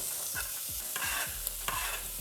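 Onions dusted with habanero powder fry in olive oil, a continuous sizzle up close with repeated scraping stirs against the pan at an even pace.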